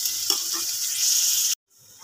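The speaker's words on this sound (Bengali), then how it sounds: "কড়াইতে গরম তেলের মধ্যে পেঁয়াজ দিয়ে এটা একটু" Chopped onions frying in hot oil in a wok, a steady close sizzle with a few soft stirring scrapes, cutting off abruptly before a fainter sizzle returns.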